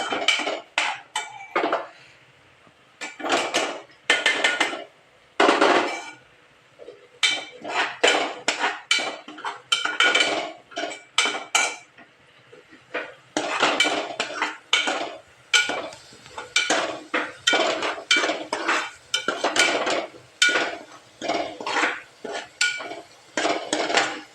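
Vegetable palav ingredients fried and stirred in a cooking pot: repeated bursts of metallic scraping and clattering of a spoon against the pot, broken by short pauses.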